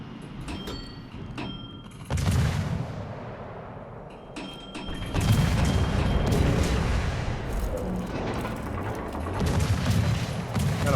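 Torpedo hits explode against a ship in a naval video game, producing deep rumbling booms and a sustained roar mixed with sharp metallic impacts and crackling. Several loud bursts overlap and swell across the stretch.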